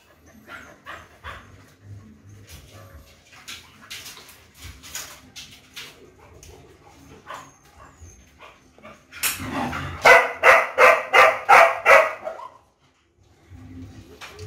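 A dog barks loudly and close in a fast run of about eight sharp barks, after quieter shuffling and a few small sounds, with brief talk before and after.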